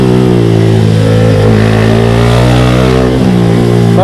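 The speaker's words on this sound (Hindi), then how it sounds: "एग्जॉस्ट की आवाज़ सुनो यार, क्या प्यारी आ रही है।" Vehicle exhaust revving on a foggy mountain road, a steady loud engine drone with rising and falling pitch, close and continuous throughout with no talking.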